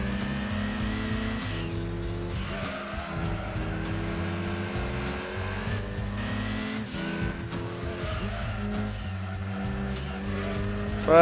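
Video-game racing engine of a Mitsubishi Evo VI RS in Gran Turismo 2, a steady loud drone with shifting pitch and brief tire squeal, continuous throughout without talk.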